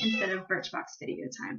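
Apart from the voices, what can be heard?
domestic cat meowing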